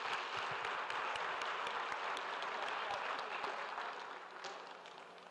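An audience at a commemoration event for African women and girls applauds in a dense, sustained round of clapping that gradually fades toward the end.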